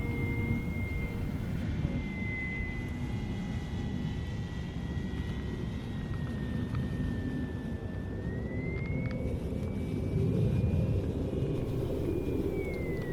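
An RC model warbird, an E-Flite UMX MiG 15 or Speed 400 Bearcat, flying a slow stall test, a thin electric motor whine steady over constant wind rumble, distant and even throughout.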